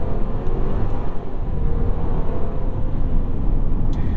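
A 2021 Mercedes-Benz GLC300 4MATIC drones steadily from inside the cabin as the transmission kicks down while driving, a loud continuous low engine and road rumble with no voices.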